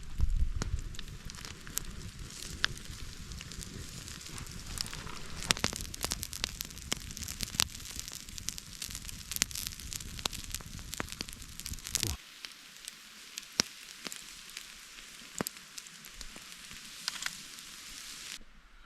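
A coal fire crackles outdoors while turkey cooks over it in the backcountry, with dense sizzling and sharp pops throughout; partway through, the low rumble drops away, leaving only faint, scattered crackles.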